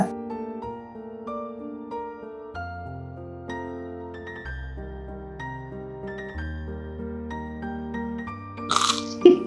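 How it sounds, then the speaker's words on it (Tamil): Someone bites into a crispy fried medu vada, the South Indian lentil fritter, giving a short burst of crunching near the end over steady background music. "நல்லா கிறிஸ்பியாக இருக்குது உள்ள சாஃப்டாக இருக்குது சத்தம் கேட்குதா"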